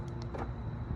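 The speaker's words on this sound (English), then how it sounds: "you can hear both doors unlocked." Door lock actuators on a 2008 Nissan Titan with a lock malfunction unlock, giving a few quick faint mechanical clicks and whirs close by with no talk.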